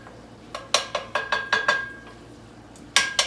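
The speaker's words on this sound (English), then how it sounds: "All right, get this bacon good and stirred up." Utensil scraping and clinking against a pan while bacon is stirred, a series of short irregular metallic knocks close by, with no voices.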